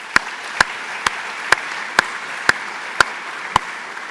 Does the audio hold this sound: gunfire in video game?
no